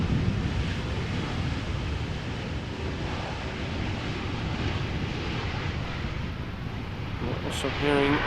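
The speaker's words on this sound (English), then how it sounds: "Also hearing an airplane pass by that probably just took off from runway 24" An airliner climbing out after takeoff from runway 24 at Amsterdam Schiphol Airport, heard as a steady broadband roar that stays fairly constant throughout, mixed with wind noise on the microphone.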